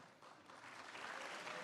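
Faint, scattered clapping from an audience at a college honors convocation builds gradually into a soft, steady patter of applause over a couple of seconds.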